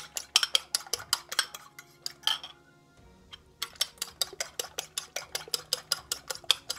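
Fork beating eggs seasoned with salt and pepper in a bowl for a ham and bacon omelet, a fast steady run of sharp clinks and taps against the bowl, briefly pausing midway before resuming.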